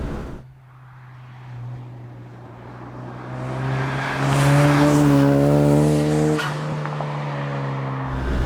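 Loud Zenos E10 R lightweight sports car driving hard, its engine note climbing steadily through the revs with strong harmonic whine, peaking loudly before dropping off, heard close with no voices.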